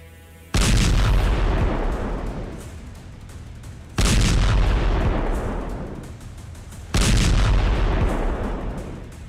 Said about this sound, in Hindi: एयर स्ट्राइक के इस वीडियो में हिजबुल्लाह के एक एक ठिकाने को तबाह कर दिया गया है।